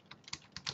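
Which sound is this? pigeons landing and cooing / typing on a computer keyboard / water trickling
typing on a computer keyboard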